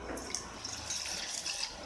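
Water is poured into a vessel for besan chutney as a soft, steady trickle with light splashy drips, close and fairly quiet, with no talk.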